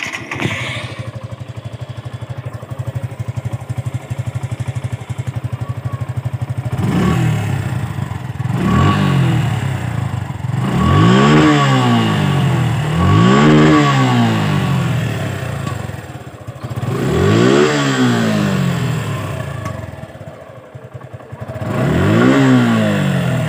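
A Suzuki Gixxer SF motorcycle with about 5,700 km on it starts and idles, then gets revved in five or six sharp throttle blips that rise and fall, loud and close, with no talk.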